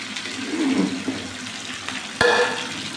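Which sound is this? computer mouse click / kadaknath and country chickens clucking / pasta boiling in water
pasta boiling in water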